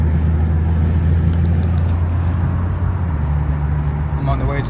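A BMW car idles steadily after being started, its low engine drone loud and constant, with a person talking over it.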